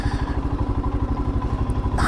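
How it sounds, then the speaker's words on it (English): A sport bike motorcycle passes on a road during a rainy ride, its engine pulsing in a fast, steady rhythm at moderate distance for about two seconds. "Out there squirting around on a sporty sport bike."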